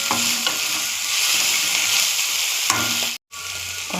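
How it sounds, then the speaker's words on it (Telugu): Ginger being stirred into onions and green chillies frying in a pan makes a loud, close, hissing sizzle with soft scraping strokes and a brief break near the end. "అల్లం వేసి కొంచెం కలపాలి."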